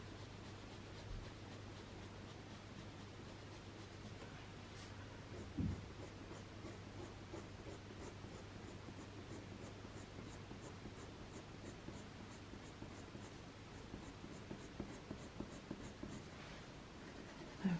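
Colored pencil shades steadily over marker-colored paper at medium pressure, giving a soft continuous scratchy rasp with small strokes and occasional light taps, quiet and close with no talking.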